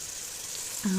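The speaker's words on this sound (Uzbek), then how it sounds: "2 dona sabzini ham kubik shaklida to'g'rab, uni ham yaxshilab qovurib olamiz" Diced carrots fry in a pan for an Uzbek-style lentil soup, giving a soft steady sizzle throughout; a voice starts up near the end.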